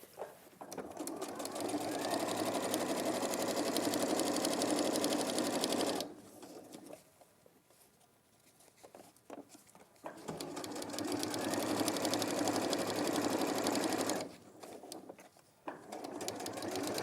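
A sewing machine sews a zip in two close, steady bursts of stitching separated by a quieter pause, with low voices in the gaps.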